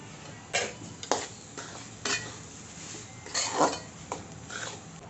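A spoon stirs roasted semolina and grated coconut in a pan for modak. The metal utensil gives several soft scrapes and clinks against the pan, spaced out and fairly faint, with a light dry sizzle underneath and no talking.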